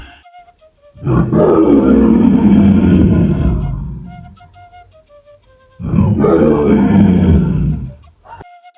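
Two deep, thunderous lion-like roars, each rumbling for about three seconds, are separated by a short quiet gap and come loud and close.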